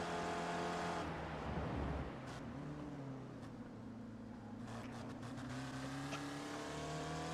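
A Spec Racer Ford race car in the iRacing game, taking the Laguna Seca corkscrew on light throttle: a close, steady harmonic engine drone that dips, then rises again as the car eases through.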